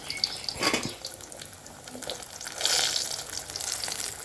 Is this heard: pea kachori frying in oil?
yes